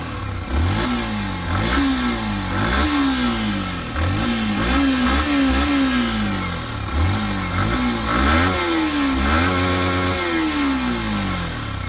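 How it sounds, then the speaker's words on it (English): A 155cc liquid-cooled, fuel-injected motorcycle runs loud and close, its exhaust revved repeatedly in rising and falling bursts over a steady idle, with no talking. "So it's time to start the bike and listen to the exhaust sound."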